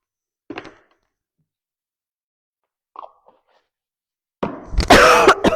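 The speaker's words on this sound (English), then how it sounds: "Listening to someone cough is not fun" Two short coughs spaced apart in a quiet room, followed by a louder burst of rough throat noise near the end.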